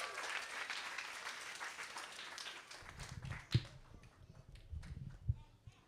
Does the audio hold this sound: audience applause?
yes